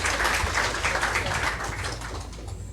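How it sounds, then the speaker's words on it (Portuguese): A church congregation clapping together in steady, continuous applause, fairly close and even in level throughout, with a faint hum beneath the claps. "E as palmas louvam o Senhor Jesus"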